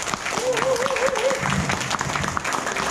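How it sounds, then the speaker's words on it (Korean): An audience at a Korean real estate course completion ceremony applauds to welcome a speaker, steady close clapping throughout with a short musical tone and some background voices underneath. "여러분 큰 박수로 맞이해주시기 바랍니다."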